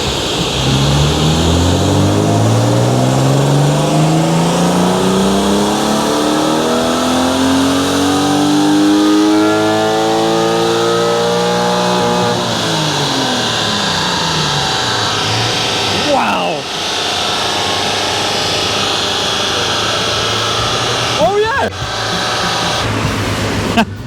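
A BMW E36 328i straight-six roars through a full dyno pull, its induction note rising steadily in pitch for about twelve seconds, then dropping off and settling to a loud, steady hum until the end.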